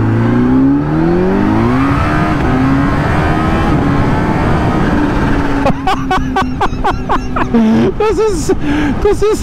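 An Exeet, a quad-like vehicle, accelerates hard with a loud engine whine that climbs steadily in pitch. A voice then speaks over the engine noise near the end.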